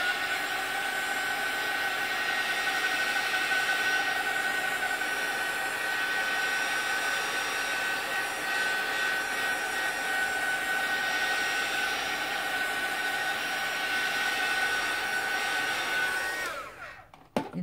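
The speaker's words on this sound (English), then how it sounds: "let's give it a little blast of from a heat tool" Heat tool blowing hot air to dry permanent archival ink on an art journal page: a steady, loud, close whooshing drone with a high whine that holds for about sixteen seconds, then cuts off with a click.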